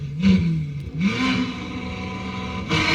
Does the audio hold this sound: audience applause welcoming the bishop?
no